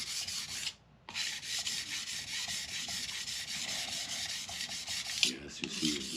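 Steady abrasive grinding of a steel blade on a SchleifJunkies CBN sharpening plate, a continuous close rasping rub with rhythmic strokes and a brief pause near the start.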